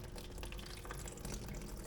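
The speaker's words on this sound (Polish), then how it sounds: "Tyle wody z tego ściąga." Water trickling and draining steadily through a small 3D-printed spout, a soft continuous splashing flow with faint drips, quiet and without speech.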